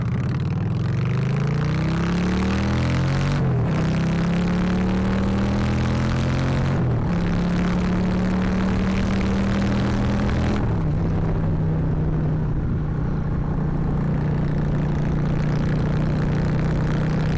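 Motorcycle engine heard while riding on a hot day, a loud, close drone that climbs in pitch through several gears with distinct drops at each shift, with wind noise throughout and no talking.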